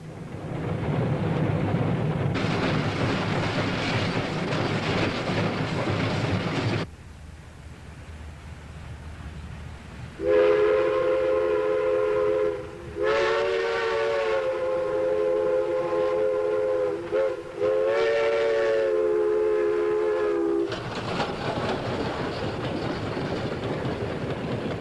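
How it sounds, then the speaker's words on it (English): A steam passenger train runs on a Pennsylvania shortline near Hamburg, sounding several long, tonal whistle blasts over a continuous rumbling, chuffing roar. "Imagine the sight of the first steam passenger train to cross the rails into Hamburg in 44 years."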